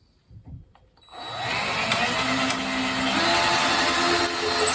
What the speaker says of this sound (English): we're going to use this bit up here in the beam so that we can just push our screws straight down through the beam